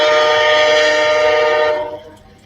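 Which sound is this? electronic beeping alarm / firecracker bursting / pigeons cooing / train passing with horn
train passing with horn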